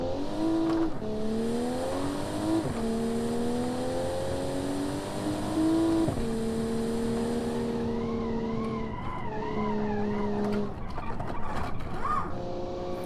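A 1988 Bay12 Motors car in BeamNG.drive revs hard at speed, a loud continuous engine drone that climbs in pitch, drops at gear shifts and climbs again, with tires squealing near the end.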